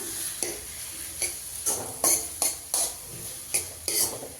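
Tomatoes frying in a pan for karamani palya and stirred with a utensil, a quiet sizzle under about eight sharp scraping strokes spaced roughly half a second apart, with no talking.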